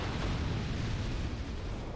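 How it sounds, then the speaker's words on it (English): An explosion in the video game Dark Souls II, a heavy, rumbling blast with a deep low-end roar that holds loudly for about two seconds, with no voices. "I want to test out this explosion thing."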